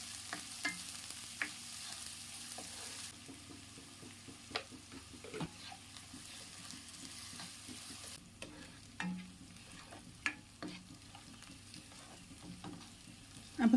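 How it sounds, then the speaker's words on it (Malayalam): Sliced onion and green chilies with salt sauté in a pan for dal palak, giving a quiet, steady low sizzle broken by scattered scrapes and taps of a stirring spoon, with louder clinks near the end. "അപ്പോൾ സവാളയും പച്ചമുളകൊക്കെ നല്ലപോലെ വഴണ്ട് വന്നിട്ടുണ്ട്."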